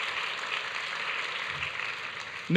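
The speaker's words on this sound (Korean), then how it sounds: "여러분 우리 워십팀을 위해서 다시 한번 박수 쳐주시기 바랍니다" A church congregation at a Friday family prayer meeting applauds the worship team. The clapping is a steady, moderately distant hiss that holds evenly, then a voice breaks in abruptly at the very end.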